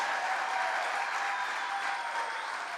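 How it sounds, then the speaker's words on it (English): A rally crowd claps steadily and densely throughout, a continuous wash of applause with no breaks or individual standout claps. "All right, now we clap."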